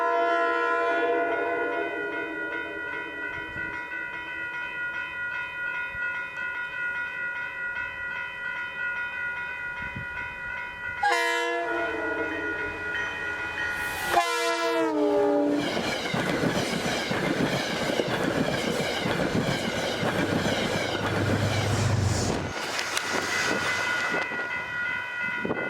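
Metro-North train MNCR 8828, with New Haven heritage unit 229 trailing, sounds a sustained horn that cuts off. It then rolls past close by with a loud rumble and rhythmic wheel clatter before fading slightly.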